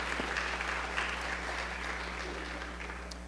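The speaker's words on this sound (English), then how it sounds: "I want to give her a big round of applause." Applause from an audience at a public school speaking competition, steady and moderately loud throughout with dense clapping texture and a low hum underneath.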